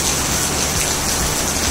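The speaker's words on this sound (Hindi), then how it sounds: "ये जोरों शोरों से बारिश हो रही है, आपको आवाज से ही पता लग रहा होगा" Heavy rain pours onto a 1 kW monocrystalline solar panel setup, a dense, loud, unbroken hiss of drops drumming close by with no voices.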